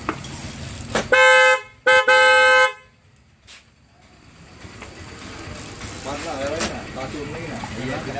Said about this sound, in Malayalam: റൂട്ട്സിൻ്റെ ഹോണാണ് നമ്മൾ വെച്ചിരിക്കുന്നത്.